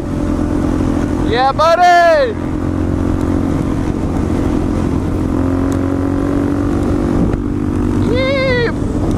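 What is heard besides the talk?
pack of supermoto motorcycles riding through LA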